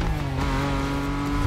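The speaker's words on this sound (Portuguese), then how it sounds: "Nossa, o ronco desse carro é muito lindo, velho." A supercar engine roars steadily in The Crew Motorfest racing game, a loud sustained drone with rising harmonic tones and a touch of tire squeal, close and continuous throughout.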